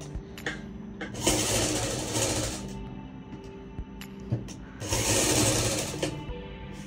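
A sewing machine stitches the fabric of a potli bag in two loud, close bursts separated by quieter pauses with small mechanical clicks.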